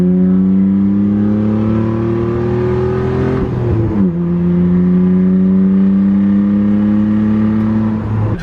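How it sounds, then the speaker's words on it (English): A VR4 car engine, loud and close, holds a steady drone that climbs in pitch as it revs, dips sharply for a shift, then rises again while pulling away. "I'm going to go take the VR4 for a little cruise"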